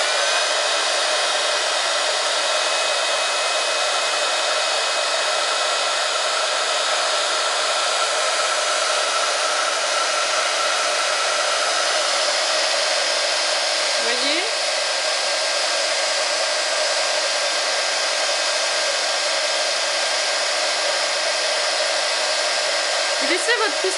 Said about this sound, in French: Laissez votre pistolet au-dessus de la poudre à embosser et ça chauffe au fur et à mesure.